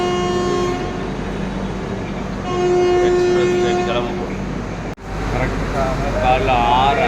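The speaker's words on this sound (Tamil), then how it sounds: "கரெக்டாக காலைல 6:05க்கு ட்ரெயின் கிளம்பிடுச்சு." Rajdhani Express train departing Chennai Central for Nizamuddin, Delhi, with a steady rumble and sustained horn-like tones, including a brief dropout, then continued rolling sound.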